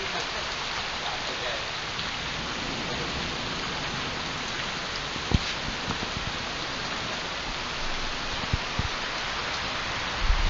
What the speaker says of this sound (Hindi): बारिश देख रहे हैं कितनी तेज बारिश हो रही है